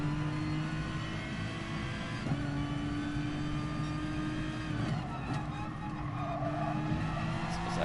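Gr.3 race car in Gran Turismo Sport braking hard into a corner, a steady loud engine drone with sustained tire squeal and skid noise running throughout.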